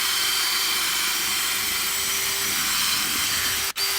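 A DeWalt drill fitted with a long extension polishes a scratched gauge cluster lens, giving a steady, close whirring rub with a faint tonal whine that cuts off abruptly near the end.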